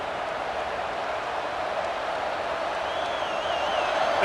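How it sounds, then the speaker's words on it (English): Stadium crowd in EA Sports College Football 26 roars as a steady, dense wash of noise that swells slightly toward the end, with a faint whistle-like tone rising briefly above it and no talking. "This crowd trying to make life miserable for this offense."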